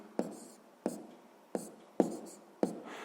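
Pen strokes on paper while working a sixth-grade maths exercise come as five short scratchy bursts at an even pace, close and quiet, without voices.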